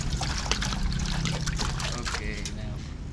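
Water is poured into a pot for cooking peanuts, producing continuous close trickling and splashing with irregular sloshes while a voice talks over it.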